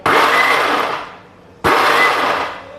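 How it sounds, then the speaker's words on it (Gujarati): A mixer grinder pulses while crushing peanuts for Mandvi Pak, a peanut barfi: two loud whirring bursts, the first fading out before the second starts sharply, with no talking. "દાણા ક્રશ કરતી વખતે આપણે મિક્સરને"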